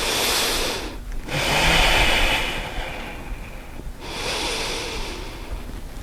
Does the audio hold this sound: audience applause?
no